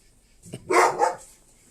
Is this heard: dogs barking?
yes